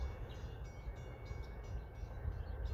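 Low, steady rumble of a Metra commuter train rolling into Antioch station, a continuous rail drone with faint mechanical rattling throughout.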